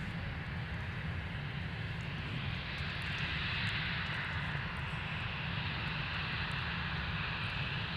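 A Delta jet airliner taxiing at MSP airport gives off a steady, fairly faint engine roar and whine that holds level throughout, heard from a distance.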